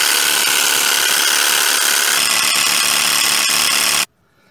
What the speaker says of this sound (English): Okay, I'm inflating it now.